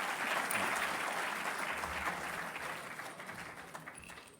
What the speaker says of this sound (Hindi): और चाहेंगे कि जोरदार तालियों से उनका स्वागत किया जाए